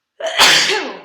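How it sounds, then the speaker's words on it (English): A single loud, close sneeze from a woman, a sharp intake followed by an explosive burst that trails off quickly. "I'm gonna sneeze."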